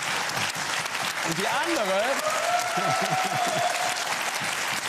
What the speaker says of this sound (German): Sie klatschen zurecht